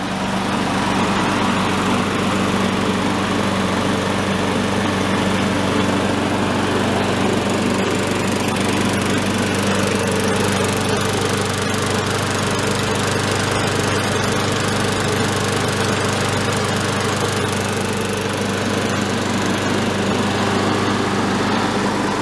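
A self-propelled lawn mower's small engine runs steadily after carburetor cleaner was added, holding a loud, constant droning hum with no change in pace for the whole stretch and no voices.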